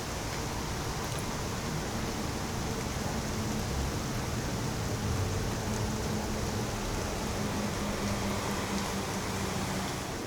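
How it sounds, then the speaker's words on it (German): Steady rain falls on the coast of Québec, a dense continuous hiss with a faint low rumble beneath it, likely from passing road traffic, holding at an even level throughout without voices. "Es regnet und regnet."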